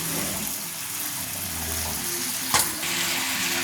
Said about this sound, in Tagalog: Gisa-gisahin lang natin yan sa medyo magmantika guys.